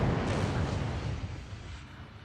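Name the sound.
naval gunfire hitting ships in Ultimate Admiral Dreadnoughts video game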